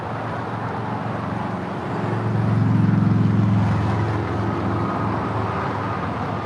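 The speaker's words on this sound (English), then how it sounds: "Qantas Flight 93 coming in from Melbourne. 787-9 Dreamliner is the next arrival there on the north side." A Qantas Boeing 787-9 Dreamliner arriving on the north side at LAX passes with a broad jet roar that builds to a peak and then fades back into steady airport background noise.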